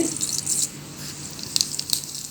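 Mustard seeds spluttering in hot oil for gooseberry pickle: a soft background sizzle broken by sharp, scattered pops and crackles, a few louder bursts toward the end, close by with no voices.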